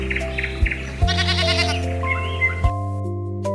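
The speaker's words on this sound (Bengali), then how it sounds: "ছ, ছতে ছাগল, ছাগল ছানা" A goat bleats several times in a loud, close series of wavering cries over a steady tonal backing.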